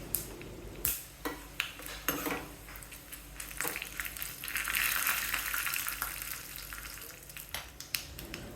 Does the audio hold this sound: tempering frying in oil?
yes